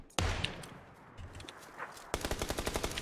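Gunfire in an online shooter video game: a sharp shot, quieter scattered sounds, then a rapid burst of automatic fire near the end, fairly faint overall.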